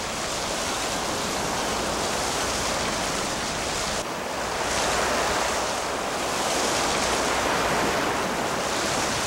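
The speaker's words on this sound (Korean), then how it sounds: "그러나 파도는 바다를 더 풍요롭게 한다." Ocean surf and wind off Dokdo make a continuous loud roar, with waves swelling and breaking steadily and gusts rushing across the microphone, with no voices.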